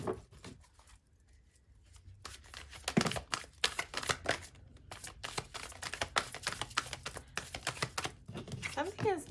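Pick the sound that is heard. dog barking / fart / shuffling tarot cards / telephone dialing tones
shuffling tarot cards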